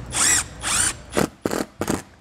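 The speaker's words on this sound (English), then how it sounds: "we're going to be putting one of these screws in." A power drill drives screws into the flange of a MaxxAir MaxxFan Mini Plus roof vent on a 2022 Grand Design RV: two longer whirring runs, then three short sharp bursts, close and loud, with no talk.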